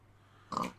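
A single short pig grunt from a Minecraft pig, close and fairly loud, breaking a quiet background.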